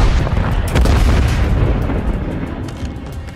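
A grenade blast in Call of Duty Modern Warfare III: a loud, close, booming rumble that fades slowly over a few seconds, with no voices over it.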